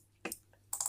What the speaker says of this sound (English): Don't mind my clicking, by the way. I know it's quite loud